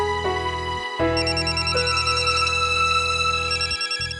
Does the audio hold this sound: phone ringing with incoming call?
yes